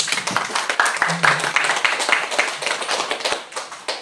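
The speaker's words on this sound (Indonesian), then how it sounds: "Ya, beri aplaus untuk." An audience applauds at an Islamic boarding school farewell gathering, a dense, close burst of hand clapping that continues steadily and then thins out, with a voice faintly audible underneath.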